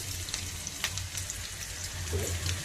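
Ingredients for a raw prawn, tomato and drumstick curry fry in a pan, making a continuous gentle sizzle with faint bubbling and a brief stirring scrape near the end.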